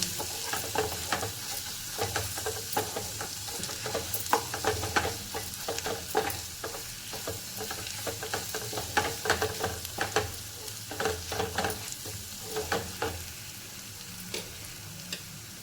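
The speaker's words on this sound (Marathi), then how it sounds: "अगदी छोटा चमचा आपण साठवणीतला मसाला घेतलेला। त्याला पण परतून घेऊया।" Stored homemade spice masala with Kashmiri red chilli being sautéed in a pan for a dry spring onion sabzi: a low steady sizzle with frequent spatula scrapes and taps, close and quiet, with no voices.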